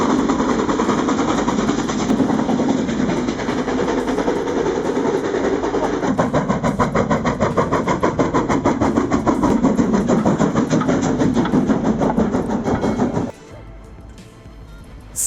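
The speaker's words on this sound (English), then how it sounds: "the steam engines breathe deep" A working steam locomotive rumbles and chuffs steadily and loudly at close range, then cuts off abruptly near the end.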